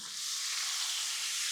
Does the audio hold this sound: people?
no